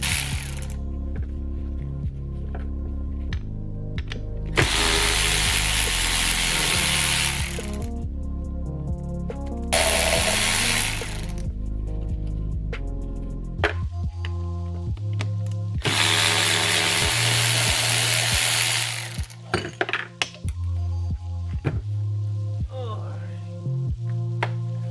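Parts come off a 5.2 Magnum V8 engine with a powered ratchet, making three loud whirring bursts separated by quieter clicks and handling sounds in a workshop.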